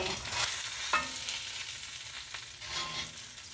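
Shishito peppers frying in a pan give a steady low sizzle with faint stirring scrapes, close and moderately quiet, with no talking.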